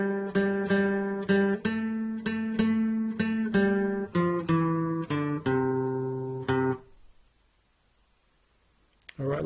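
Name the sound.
guitar playing Jack and Jill part 2 on five strings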